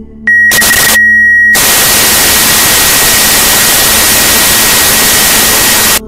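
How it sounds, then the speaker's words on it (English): Loud, harsh television static hisses steadily for several seconds in a Korsakovia mod, after a brief stuttering burst and gap at the start, then cuts off abruptly. "I am forced to sit with my eyes closed and simply listen to the static"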